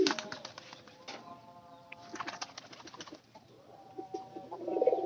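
Pigeons coo in a loft in a breezy open setting, among older birds in the second coop; soft repeated calls and a few wing flutters, moderately close, with no talk.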